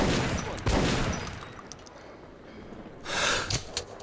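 Gunfire in the video game Metro: Last Light, heard as a burst of loud shots at the start and another cluster near the end, with quieter stretches between.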